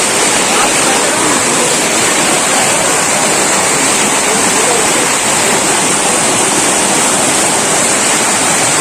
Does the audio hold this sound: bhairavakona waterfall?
yes